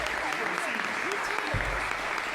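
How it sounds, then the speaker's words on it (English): Sustained audience applause fills a city council meeting chamber, steady and loud throughout, with a few cheers and voices rising over the dense clapping. "Big round of applause again."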